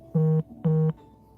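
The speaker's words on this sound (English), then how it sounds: "my notifications are going off" A phone gives two short, identical buzzing tones in quick succession, each lasting about a quarter second, fairly clear against a quiet background.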